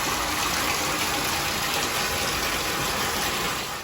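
Hot water gushing steadily from a tap into a bathtub, a loud, continuous broadband rush that holds constant throughout with no voices.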